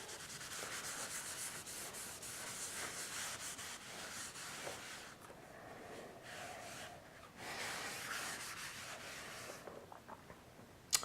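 Charcoal is rubbed into a paper drawing, producing a soft, close, continuous scratchy rubbing with slight pauses and changes in pressure.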